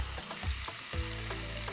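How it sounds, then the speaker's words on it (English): Chicken wings sear in a hot pan with a steady, loud sizzle and crackle, punctuated by a few soft thumps and scrapes as they are moved; no voices. "Sear the chicken on both sides for at least 2 to 3 minutes."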